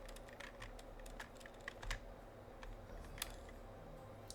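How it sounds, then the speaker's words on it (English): A computer keyboard clicks in quick, irregular bursts of keystrokes, soft and close against a low background hum, with no talking. "You can hear my keyboard."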